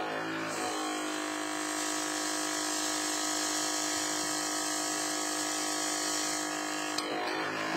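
An airbrush sprays steady color through a stencil onto a cookie, a continuous hissing buzz that starts abruptly, holds evenly for several seconds, then cuts off, alone with no talking.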